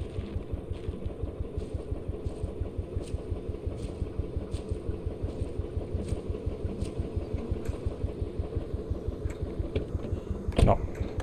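A tractor engine in the video game Greyhill Incident idles with a steady, low rapid chugging that holds throughout, with a brief sharp click near the end.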